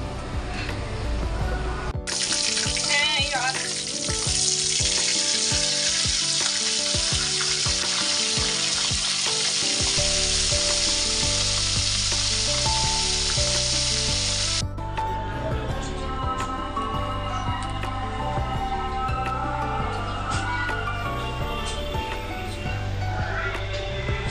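Eggs frying in a kadai for egg curry, a loud, close, bright hiss that fills the first half and then drops to a lower sizzle, with music playing underneath throughout.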